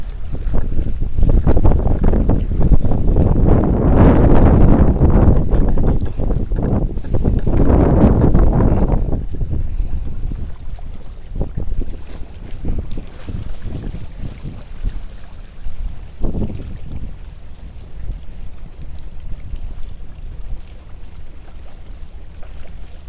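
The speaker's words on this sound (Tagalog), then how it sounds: "Lumakas ang hangin." Strong wind buffets the microphone outdoors on the water during ultralight fishing, a loud roaring gust for the first several seconds that then eases into a lighter, unsteady rush with occasional bumps.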